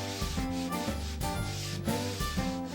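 Folded 120-grit sandpaper worked by hand back and forth along the grain of a wooden panel, a steady rhythmic rubbing scrape, close and continuous, with faint tonal background music underneath.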